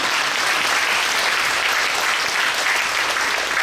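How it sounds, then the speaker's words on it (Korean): Church congregation applauding the new general assembly president at an inauguration service, a dense, loud and even roar of clapping that fills the whole stretch. "우리 총회장님께 다시 한번 축하의 박수 보내주시기 바랍니다."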